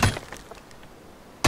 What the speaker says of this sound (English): Start smashing fucking furnaces now!